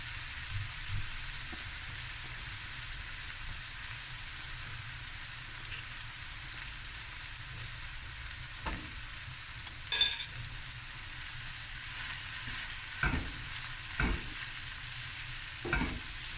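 Rice goes into a frying pan and is stirred, a quiet continuous sizzle with occasional scrapes and one brief clink of utensil against the pan, with no one talking.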